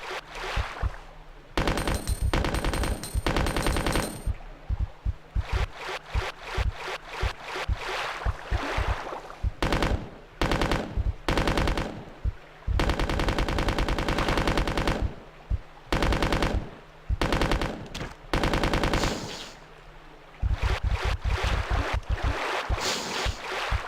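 Rapid bursts of automatic gunfire from Resident Evil 2, loud and near, dense volleys broken by brief pauses across the whole stretch, with no talking over it.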